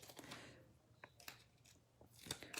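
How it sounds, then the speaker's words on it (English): Scissors snipping adhesive strips for a stamped interactive card, several quiet close crisp cuts in a short burst, with no talking. "I'm just snipping the adhesive strips"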